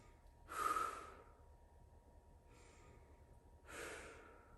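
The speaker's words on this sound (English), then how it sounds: "Two more deep breaths." Two slow, deep breaths during a low-impact workout stretch, each a soft airy exhale close to the microphone, separated by about three seconds of quiet.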